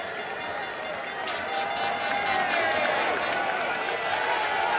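Spectators crowd five or six deep on both sides of the course at the UCI Cyclo-cross World Cup in Namur, keeping up a continuous roar and cheering beneath a commentator's voice.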